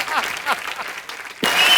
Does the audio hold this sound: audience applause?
yes